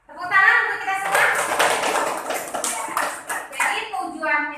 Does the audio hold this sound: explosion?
no